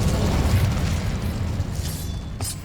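Incendio fire spell cast in Hogwarts Legacy, a loud rushing whoosh of flame with low rumbling, fading slightly before a brief sharp burst near the end.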